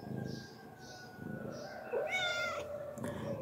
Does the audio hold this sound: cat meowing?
yes